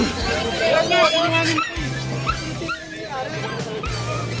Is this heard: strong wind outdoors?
no